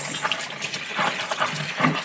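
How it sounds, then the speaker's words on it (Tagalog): Running tap water gushing steadily in a domestic setting, moderately loud and close, with a continuous hiss of flow and a few brief splashes, no voices present. "Arang-arang kay ang tubig may agas."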